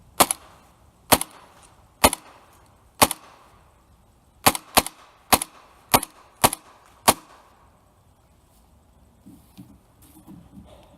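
Matrix MEU 1911 airsoft carbine kit firing BBs: nine sharp, snappy shots at a steady pace, the first four about a second apart and the last five quicker, then a quiet tail with faint handling noises.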